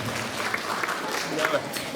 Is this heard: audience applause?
yes